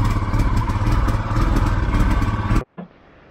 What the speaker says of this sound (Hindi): जो हमारी बाइक है वो स्टार्ट नहीं हो रही है। हाँ तो फाइनली अभी चालू हुई है